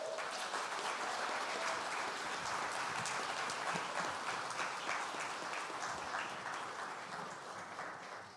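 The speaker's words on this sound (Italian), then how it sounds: "Applausi." A church congregation applauds during a worship service, sustained dense clapping from a sizable crowd heard at a moderate distance, holding steady for several seconds before gradually tapering off.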